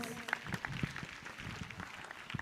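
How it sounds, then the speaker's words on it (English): Scattered clapping from an audience at a children's town hall meeting, fairly faint and uneven, with individual hand claps standing out over a soft crowd murmur. "Let's give her a round of applause."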